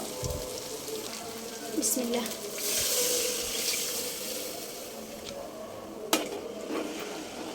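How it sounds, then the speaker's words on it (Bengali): Water poured into a hot, sizzling pan of meat curry gives a brief rushing hiss, followed by a sharp clink; a voice speaks a single short word early on. "এখন এর ভিতরে পানি দিয়ে দিব।"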